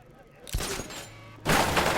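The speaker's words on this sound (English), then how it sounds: "Open fire! Shoot everything, now!" Gunfire erupts in an ambush in the Batman: Arkham Knight video game, two loud bursts of rapid rattling shots about a second apart, with a voice in between.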